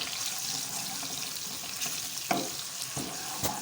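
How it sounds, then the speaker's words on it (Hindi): Grated onion frying in a pan, a soft continuous sizzle with a few brief stirring knocks, fairly quiet and heard alone. "प्याज को अच्छी तरह से गोल्डन ब्राउन की तरफ आने दें।"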